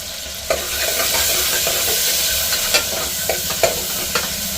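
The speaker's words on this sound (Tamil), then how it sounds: "கொஞ்சம் வெங்காயம் பொரியட்டும்." Onions and curry leaves fry in hot oil in a pan, giving a steady, close sizzle with a few sharp crackles and pops scattered throughout.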